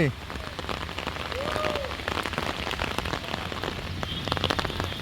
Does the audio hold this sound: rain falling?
yes